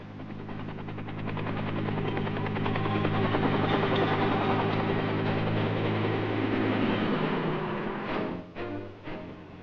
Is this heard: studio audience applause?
no